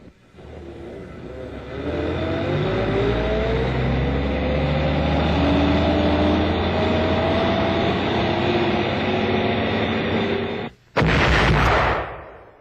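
A World War II automatic 155 mm cannon firing: a heavy, sustained mechanical roar with deep low rumble dominates, then cuts out abruptly before a final loud burst near the end.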